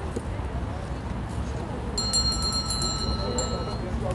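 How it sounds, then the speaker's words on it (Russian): Large ship's bells, the kind called rynda, ring at a Tbilisi flea market: several bright metallic strikes with sustained overtones arrive from about two seconds in, over steady crowd murmur and background noise. "Это все большие колокольчики, рынды называются."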